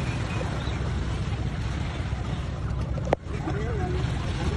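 A low, steady engine rumble of an overloaded island-hopping boat on water off Siargao Island, Philippines, with murmuring voices nearby and one sharp knock partway through.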